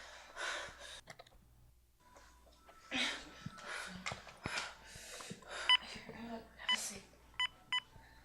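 Telephone keypad tones beep one after another, short and distinct, as a phone is dialed indoors. Breathing and quiet voices can be heard between the tones.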